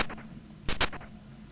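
Two short, harsh bursts of 8-bit noise, one right after the other, from the AGD game sound bank, alone over a faint background hiss.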